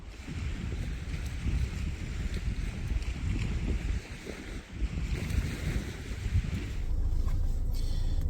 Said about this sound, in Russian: Все-таки мотор завели, потому что очень холодно на улице.